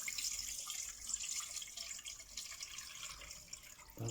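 Water with bay leaves poured and strained through a sieve or colander, a continuous soft trickling splash, close but fairly quiet, alone without talk.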